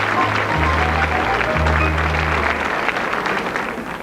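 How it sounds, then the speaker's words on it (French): Applause from a television studio audience welcomes a young child contestant, moderately loud with a low musical tone underneath, fading toward the end. "Viens Angélique sous les applaudissements du public."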